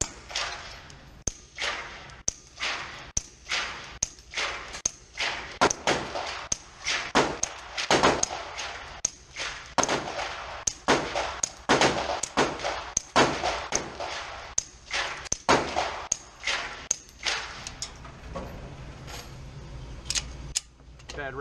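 Suppressed 9mm pistol shots from a SilencerCo Maxim9 fired indoors, a long string of sharp, evenly spaced cracks, loud and close, with occasional short pauses between groups of shots.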